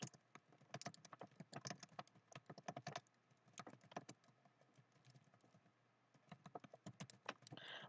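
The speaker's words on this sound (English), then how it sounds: "I'll actually type that again in chat real quick" Quiet, rapid clatter of fingers typing on a computer keyboard in irregular bursts of keystrokes, separated by brief pauses, heard close and alone.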